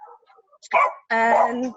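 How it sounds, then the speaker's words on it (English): Dogs bark indoors during an online meeting: a couple of sharp, close barks with yelping tone, preceded by faint indistinct talk in the background. "sorry about the dogs."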